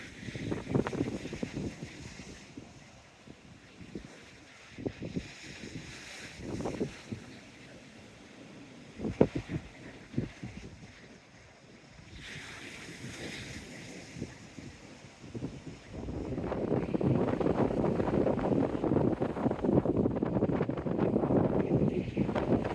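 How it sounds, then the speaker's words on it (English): Wind buffeting a microphone on a seafront during a stroll, gusty rumbling that comes and goes, then turns strong and continuous toward the end, with faint voices and surroundings beneath. "right into the wind in this direction. Hopefully wind blocker's doing its job"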